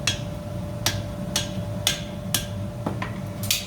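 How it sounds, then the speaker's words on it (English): Iron chain link hammered over the bick of an anvil while being shaped into a horseshoe curve: seven sharp ringing metallic strikes at a steady, slightly uneven pace over a constant low hum. "as I hammer it down, I'm drawing down my left hand to pull it into a horseshoe shape."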